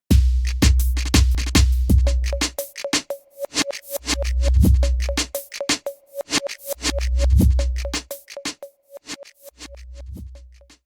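A Kontakt sampler patch combining two audio loops, one running forward and one reversed, producing a steady rhythmic pattern of sharp repeated hits over recurring deep bass swells and a sustained pulsing midrange tone, played alone.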